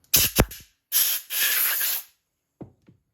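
Compressed air blasting debris and moisture out of KTM 300 carburetor parts: a few sharp hissing bursts, a longer sustained spray, then brief faint puffs, close and loud between silences.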